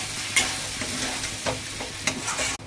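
Soybean kachori filling with fried green chillies and cumin being stirred in a hot pan, a spoon scraping steadily and a few sharper clinks over a constant oil sizzle, no talking.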